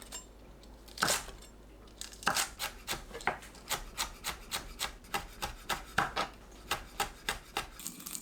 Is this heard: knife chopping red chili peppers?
yes